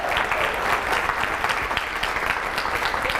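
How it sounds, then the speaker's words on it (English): An audience applauds GangstaChef Cabrini at a Les Brown event, a dense, continuous wash of many hands clapping at once, loud and steady throughout with no talk over it. "Give Cabrini a round of applause."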